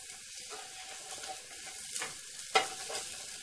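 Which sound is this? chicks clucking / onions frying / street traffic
onions frying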